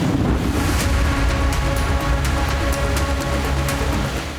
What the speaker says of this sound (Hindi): तभी एक झरने से सामना हुआ।